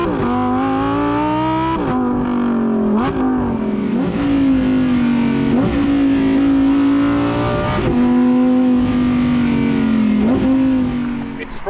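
A Lamborghini Huracan Evo engine revs loudly and continuously, its pitch climbing and then dipping sharply several times as it shifts through gears.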